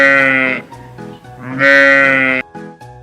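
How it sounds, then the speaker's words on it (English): A sheep bleats loudly and close by, giving two long wavering calls with a short pause between them and no other sound. "Sheep."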